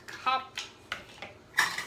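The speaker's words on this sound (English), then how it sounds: "I want to stir it." A utensil stirring sugar in a bowl while preparing gluten-free, plant-based cinnamon star cookies: a handful of light, sparse scraping clinks against the bowl, quiet and close, with no talking.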